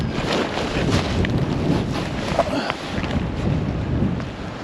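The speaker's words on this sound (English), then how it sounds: "with the wind coming now upstream, it's just pushing my cast across" Wind gusting upstream along the River Findhorn during salmon fishing, a steady, broad rushing roar over the microphone with low buffeting throughout, close and fairly loud, no talking.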